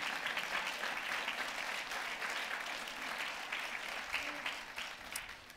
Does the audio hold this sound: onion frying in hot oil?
no